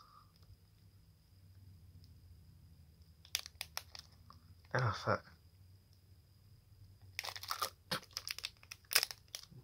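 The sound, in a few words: tearing open card pack wrapper with teeth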